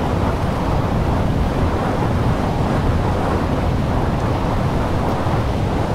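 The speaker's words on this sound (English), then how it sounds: "You hear that strong wind," A strong 60 mph wind gust roars through a tropical storm in a Roblox city game, a loud, dense, continuous rushing blast like driving rain and surf, steady with no talk over it.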